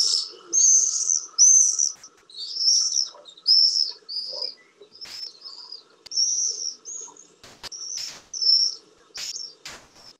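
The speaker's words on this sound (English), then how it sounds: "that is, of course, is the screaming call of the common swift" High, shrill screaming calls of common swifts repeat in short bursts, some overlapping, with faint insect-like buzzing beneath and no talking, in Sussex in summer.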